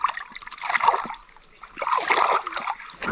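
Water splashes and trickles in a small running stream on a rural property as someone digs a hole in the streambed by hand. The sloshing is close and continuous, with a few louder splashes.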